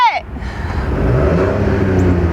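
A 2021 Chevrolet Trailblazer's 1.3-liter turbocharged engine revs up close and loud, settling into a sustained, rising drone after a brief voice at the very start.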